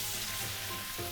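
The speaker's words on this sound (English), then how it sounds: "You only hear the sizzling, but no splattering." Pork chop coated in a thin batter layer fries in oil, a steady, dense sizzle throughout with no splattering pops, close and alone.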